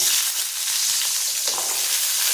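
About fifteen small onions fry in a pan for urad dal chutney, giving a steady, close, hissing sizzle with faint stirring scrapes throughout.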